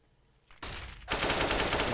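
Gunfire in the video game CS:GO during a competitive match, a single sharp shot followed by a sustained rapid burst of automatic fire, close and loud.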